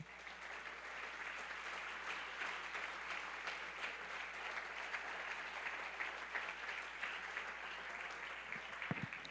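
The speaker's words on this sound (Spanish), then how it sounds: "¿Por qué no le brindo un aplauso al Señor?" Church congregation clapping together in praise, a steady, fairly faint wash of many hands sustained throughout, with a brief sharper burst near the end.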